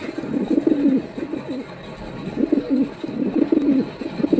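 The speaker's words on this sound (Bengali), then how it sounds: "এখানে বেশ কিছু কবুতর গিরিবাস কবুতর" Several pigeons, including Giribaz pigeons, cooing at a pigeon market, repeated rolling coos in clustered bursts, close and fairly loud over a low market background.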